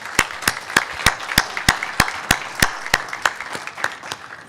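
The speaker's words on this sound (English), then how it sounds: "Let's have a round of applause for all of our generous sponsors." A small audience at a Maine chamber of commerce breakfast event claps for its sponsors, producing sparse, distinct individual hand claps in a steady rhythm rather than a full roar, heard close and without talk.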